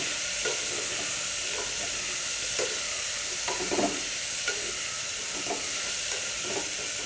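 Mixed vegetables are stirred and tossed in a hot pan for vegetable khichdi. A steady sizzle runs underneath, broken by soft, irregular scrapes and clacks of the spatula. No one speaks.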